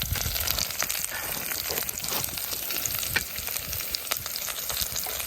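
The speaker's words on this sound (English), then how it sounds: "Throw in your squirrel meat and just give it a nice stir." Red squirrel meat fries with caramelized garlic in a pan, giving a dense, busy crackle and hiss. Frequent small pops and stirring scrapes ride on top, heard up close with no voices.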